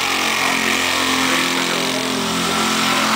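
A petrol-powered aircraft engine, apparently on a model plane of a few hundred cc, running at an outdoor airshow, a continuous loud buzzing drone with a steady, slightly wavering pitch. No one talks.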